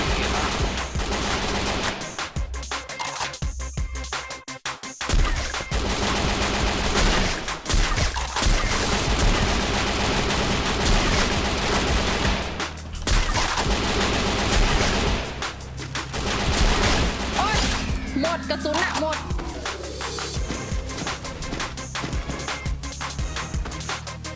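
Sustained bursts of automatic gunfire from a fort position in the Free Fire battle royale game, loud and dense with brief pauses, mixed with background game music and no talk.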